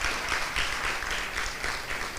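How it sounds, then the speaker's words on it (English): A crowd claps for graduates at a university hooding ceremony, dense continuous applause that fills the room evenly with no one speaking over it. "let's clap for them"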